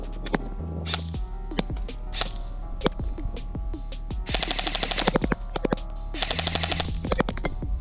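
Specna Arms SA-E10 PDW airsoft gun with Gate Aster firing two full-auto bursts of rapid, even clicks, with scattered single shots and mechanical handling before them, loud and close with no talk.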